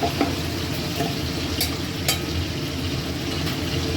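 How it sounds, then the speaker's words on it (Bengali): Mustard oil hitting a hot pan gives a steady, close sizzle throughout, with a couple of sharp crackles partway through. "এবার আমি সর্ষের তেল দেবো"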